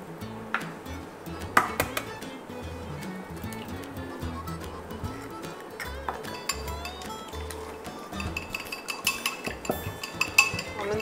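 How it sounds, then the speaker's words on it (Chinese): Two eggs being beaten in a bowl in a home kitchen, a busy clatter of utensil against bowl with quick clinks and scraping that continues steadily for about eleven seconds, close and moderately loud. "我们打蛋把它打开了"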